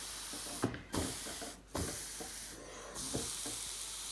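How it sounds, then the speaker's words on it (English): A steamer puffs steam over knitted wool patches in three hissing, spraying bursts that rise and stop, close by with a steady background hum. "Look at that steam coming."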